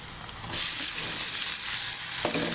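Chilies frying in a pan give a steady, loud, close hiss of sizzling oil that swells after a brief quieter start, with a soft stirring scrape near the end.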